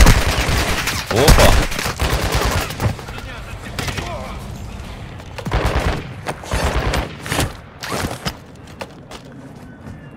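Bursts of gunfire in the Warzone 2 DMZ video game, repeated shots and rapid volleys spread across the clip at varying distances, with a brief spoken exclamation over them.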